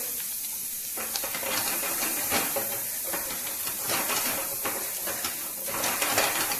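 Chopped onions sweat in a hot pan with a steady, close hiss and sizzle. Soft crackles and faint stirring sounds rise and fall throughout, and no one speaks.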